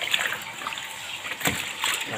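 Water splashes and sloshes into a Toshiba 9 kg twin-tub washing machine loaded with clothes, a close, moderately loud watery rush with brief splatter bursts.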